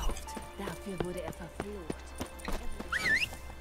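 In the video game The Witcher 3, a horse's hooves clip-clop in a quick uneven rhythm and a short whinny follows, all under someone talking.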